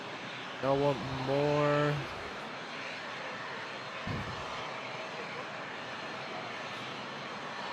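A Qatar Airways airliner at Toronto airport gives a steady, distant broadband roar that runs throughout, with a brief spoken remark near the start.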